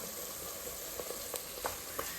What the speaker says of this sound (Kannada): ಈ ಕಡೆ ಬಂದರೆ ನಾರ್ಮಲ್ ಬಿರಿಯಾನಿಗೆ ಫ್ರೈ ಮಾಡ್ಕೊತಾ ಇದ್ದೀನಿ.